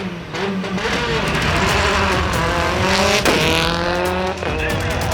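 A rally car driven by Hayden Paddon roars past at speed on a race track, its engine loud and revving with rising and falling pitch and a sharp tire squeal, while a commentator talks over the noise throughout.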